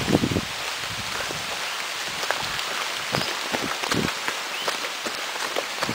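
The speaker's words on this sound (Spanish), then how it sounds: "¿Está lloviendo? Sí." Steady rain falls outdoors in Guajataca as a continuous hiss with scattered drop patters close by, and no talk is heard over it.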